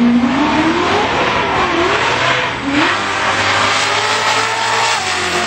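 A Ford Mustang street drag racing car at an NMCA event revs hard, its engine pitch sweeping up and down through several rising pulls, loud and close, with no talking.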